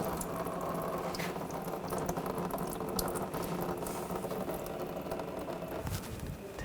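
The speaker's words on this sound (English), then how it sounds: "Just grab this, we'll just twist it back and forth a little bit. And just let that drain out." Coolant drains steadily from a 2.0L four-cylinder engine on a Volkswagen Tiguan, a continuous close trickling and pattering of liquid with no pauses and no talk.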